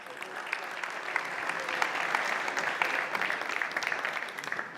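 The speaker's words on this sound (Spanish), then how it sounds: "Les pido, por favor, un aplauso para ellos." An audience at a hotel-sector tech conference claps for the panel speakers, a full steady round of applause that swells slightly in the middle and carries on throughout.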